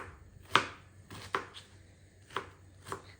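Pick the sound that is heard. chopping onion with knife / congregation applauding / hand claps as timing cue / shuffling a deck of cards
chopping onion with knife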